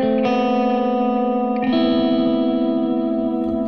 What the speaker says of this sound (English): After that, I go to the Space Echo.